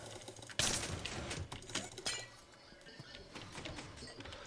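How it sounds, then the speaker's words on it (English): Glass blocks shattering in Minecraft, a sharp bright crash followed by a scatter of clinking fragments and a few further breaks, set against steady game ambience and fairly quiet overall. "his glass is far too easy to break"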